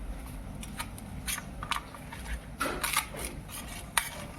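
A knife slicing through capsicum bajji fritters on a board, a series of short, soft crisp cuts and taps at close range, sparse at first and then clustering near the end, quiet overall.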